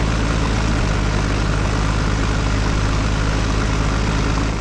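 A tractor engine idles steadily in Farming Simulator 2015, a loud, continuous low diesel rumble with a constant throb, close and unbroken throughout.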